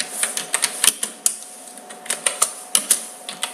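Keys clatter on a keyboard in an irregular run of sharp, close clicks, some quick bursts and short pauses between them, with no voices.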